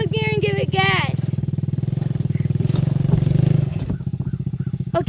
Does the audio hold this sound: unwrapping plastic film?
no